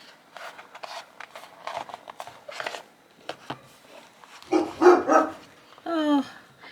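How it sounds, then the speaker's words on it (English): A dog barks indoors during a quiet crafting session at a table, giving a few loud, close barks and yips after scattered soft rustling and tapping sounds. "my dog would always bark when I did a video"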